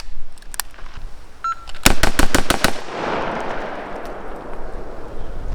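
Six rapid rifle shots from an AR-15 during a trigger split test, a loud evenly spaced burst of sharp cracks outdoors, each echoing briefly, with faint handling noise before and a rolling reverberant tail after.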